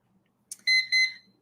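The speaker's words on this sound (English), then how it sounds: "Oh, and that's our alarm." A household alarm sounds two sharp, loud electronic beeps in quick succession, each a high steady tone, close by in an otherwise quiet room.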